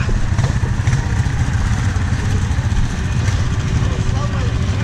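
An off-road motorbike engine rumbles and chugs close by on a muddy off-road park track, a rough, loud idle with clattering pulses, while people talk and call out over it.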